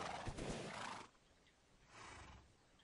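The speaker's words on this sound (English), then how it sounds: "Yes, I know people are riding horses." A horse neighs inside a video game with riders on horseback, one loud whinny in the first second, then a softer second call a moment later over quiet game ambience.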